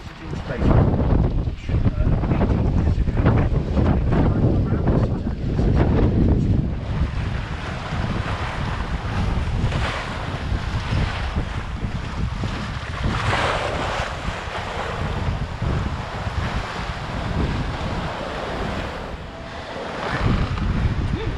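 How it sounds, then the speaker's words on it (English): A sailboat reaching along at about seven knots in a sudden 17-knot wind on a Pacific crossing from Mexico to French Polynesia, with loud continuous wind rush buffeting the microphone and waves surging against the hull throughout. "Wind came up real quick."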